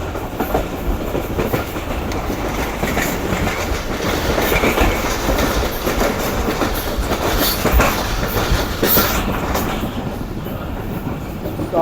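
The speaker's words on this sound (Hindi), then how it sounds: "आने वाली ट्रेन ऑलरेडी लूप लाइन पर लग रही है।" A train runs along a loop line, its carriages rattling with a steady clickety-clack that stays close and loud the whole time, with no talk over it.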